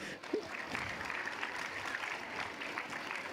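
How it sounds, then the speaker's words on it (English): Steady applause from a crowd at a career conclave session, dense and continuous, with a few faint voices mixed in. "let's have a big round of applause for him"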